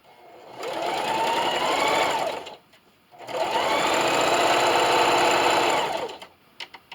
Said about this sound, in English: So just keep sewing.